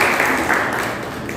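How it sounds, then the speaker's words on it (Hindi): Audience applause at a road safety quiz competition for a correct answer, a dense wash of many hands clapping loudly and steadily through the short stretch. "जोरदार तालियों से इसका"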